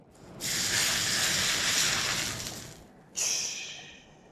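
Boiling ghee poured over chole gives a loud, close sizzling hiss that swells and slowly fades, then a second sharp burst of sizzle near the end.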